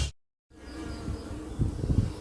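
Honeybees drone in a low steady buzz at an open hive in a fairly weak colony, rising slightly toward the end after a brief gap of silence.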